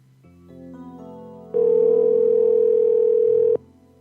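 A telephone dial tone after hanging up on a caller: a faint electronic hum, then a steady loud single-pitched tone holding for about two seconds before cutting off, with no talk.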